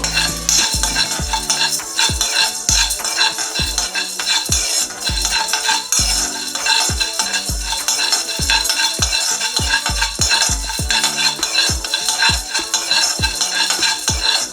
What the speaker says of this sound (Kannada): ಈಗ ಇದನ್ನೆಲ್ಲ ಸಿಮ್ಮಲ್ಲೇ ಇಟ್ಕೊಂಡು ಹುರ್ಕೋಬೇಕು.